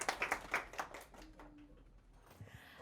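Audience applause for the next contestant at a social media brunch, a short burst of quick claps in the first second that fades into quiet room noise.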